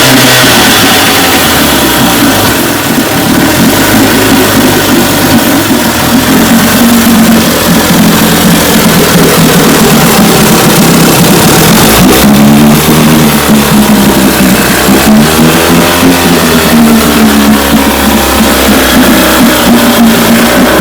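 A rebuilt 1958 Evinrude 18 HP outboard motor runs loudly and steadily for the whole stretch, its pitch rising and falling as it revs up and settles back.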